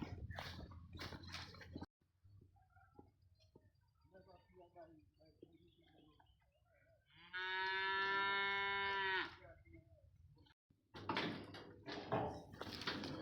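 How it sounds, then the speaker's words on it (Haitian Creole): Cattle on a farm give one long, loud moo lasting a few seconds, standing out in a quiet stretch between bursts of nearby speech and movement. "Mon Dieu, mes petits bœufs."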